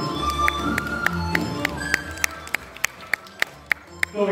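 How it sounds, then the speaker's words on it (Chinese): Wedding guests at a Chinese wedding ceremony clap in scattered, uneven bursts that settle into a string of sharp, evenly spaced claps, with a background murmur beneath. "朋友们，掌声有请"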